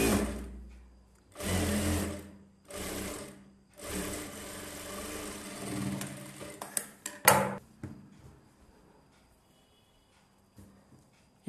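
Sewing machine stitches a silk blouse in several short bursts of rapid whirring, with pauses between runs, then clicks and handling noises before it goes quiet.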